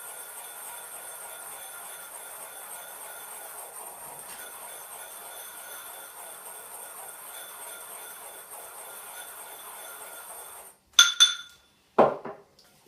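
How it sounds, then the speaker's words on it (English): Organic cane sugar is ground in a mortar and pestle with a quiet, steady scraping and grinding for about ten seconds, then a few sharp clinks of the pestle against the bowl. "I take my organic cane sugar and I just grind it up myself in my mortar and pestle."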